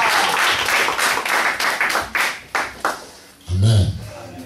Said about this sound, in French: applaudissez pour la gloire.